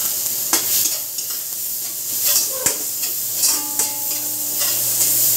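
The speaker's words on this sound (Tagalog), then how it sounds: "magsimula na po tayo sa paggisa ng ating sangkap. Ng bawang. Lahat ito sibuyas." Garlic and onion sauté in a hot pan for pork belly hamonado, with steady close sizzling and hiss broken by a few sharp clicks of a spatula stirring against the metal.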